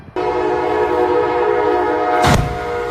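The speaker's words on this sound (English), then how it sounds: "An Amtrak train crashed into a truck blocking the tracks." An Amtrak train sounds its horn in a loud sustained tonal blast that holds for about two seconds near the tracks, then gives way to a heavy rumbling rush as it passes close by.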